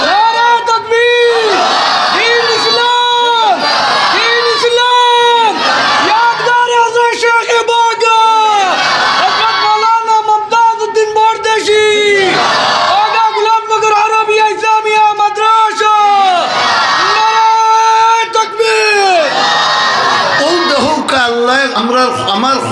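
A large crowd at a religious gathering in Sylhet, Bangladesh, answers a leader's call by chanting takbir in loud, repeated, rhythmic group shouts that rise and fall for over twenty seconds.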